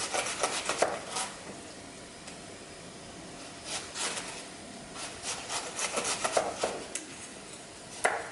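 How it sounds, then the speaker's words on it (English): Knife slicing cabbage into thin slices on a cutting board, a series of soft crisp cuts in uneven clusters, close and fairly quiet, with no talk over them. "When you're cutting the cabbage, very carefully, you want to cut it on this angle so you get nice thin slices of cabbage"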